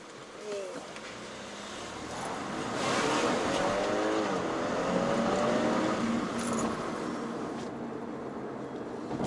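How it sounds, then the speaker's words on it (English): A 250-horsepower facelifted Audi A5 Sportback in dynamic mode accelerates at full throttle, its engine rising in a steady climbing drone with gear changes, heard from inside the cabin with a brief spoken exclamation. "let's try the full acceleration. I am in dynamic mode."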